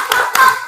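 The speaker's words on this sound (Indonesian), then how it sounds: "Yuk, tepuk semangat." Children in a combined grade 1 and 2 classroom clap hands together in a short burst, two claps close and loud in the room.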